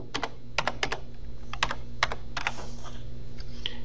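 Rapid keystrokes on a computer keyboard as a class code is entered, a quick run of sharp, close clicks in uneven bursts over a low steady hum, with no talking.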